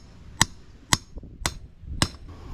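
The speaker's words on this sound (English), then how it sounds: "Listen to the hammer. You'll hear it when it hits the bottom." Four sharp, evenly spaced hammer blows ring out as bearing races are driven into a trailer wheel hub, each strike loud and metallic with a brief clang, with no voices.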